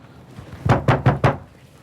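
Four firm knocks on a wooden door at an evenly spaced rhythm, close and fairly loud, with a quiet background.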